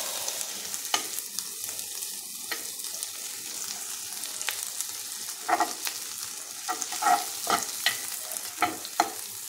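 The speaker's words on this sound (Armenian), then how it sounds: "պամիդորով ձվածեղ եմ անում կարակով" A tomato omelette frying in butter gives a steady soft sizzle, broken by short scraping and stirring clicks that grow busier toward the end, close by and with no voices.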